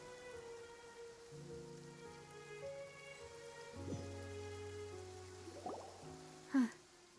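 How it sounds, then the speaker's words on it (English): Light rain in the video game Genshin Impact falls as a soft, steady patter beneath sustained in-game music notes, with one brief sharp sound near the end. "It's been raining non-stop for a few days now."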